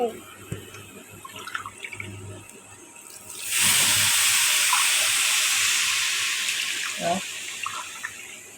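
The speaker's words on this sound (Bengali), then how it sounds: "চালটা ভাজা হয়ে গেছে এখন চালে পানি দিয়ে দিতে হবে সিদ্ধ হবে" Quiet background with a few soft knocks, then a sudden steady rush of water pouring into a pot of fried rice grains, loud and continuous until the end.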